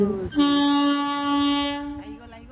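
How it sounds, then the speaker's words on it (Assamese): A train horn blares loudly and steadily for over a second as the train arrives at a station in Cooch Behar, West Bengal, a rich multi-tone blast over rumbling rail noise, with brief voices before and after. "আমাৰ ট্ৰেইন আহি গ'ল"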